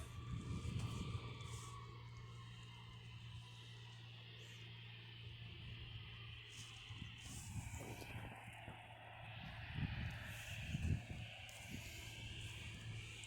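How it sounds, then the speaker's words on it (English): A propeller airplane drones steadily in the distance outdoors, a faint low hum persisting throughout under light wind and rustling, with no talk. "I think I just heard some sort of strange propeller plane on the background"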